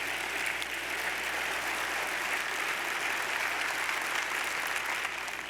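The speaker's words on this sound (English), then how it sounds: "let's give her a round of applause." Steady, dense applause from a large audience at a mayor's State of the City address, honoring a nurse who cares for elderly patients in the Bronx, a continuous even wash of many hands clapping at moderate level with no speech.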